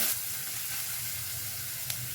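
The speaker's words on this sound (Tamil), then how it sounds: "அதோட பச்சை வாசம் போகிற நல்லா வணக்கிக்கலாங்க" Vegetables sautéing in a pan for Tirunelveli sodhi kuzhambu, a steady soft sizzle and frying hiss running evenly throughout at low volume with no talk.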